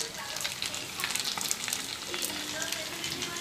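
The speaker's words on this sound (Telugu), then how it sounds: "ఇలా ఎర్రగా వేగనించి" Onions and green chilies fry in hot oil in a pan while being browned for a fish curry, giving a dense, close crackling sizzle with occasional stirring scrapes and no voice.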